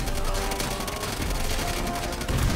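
Mortar fire in Call of Duty World at War, a continuous barrage of gunfire and explosions with a heavy low thump near the end, loud and dense throughout.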